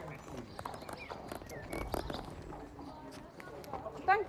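Horses on an evening ride through fields to rescue fawns clop along in a loose, uneven rhythm of hoofbeats at moderate distance, with voices in the background.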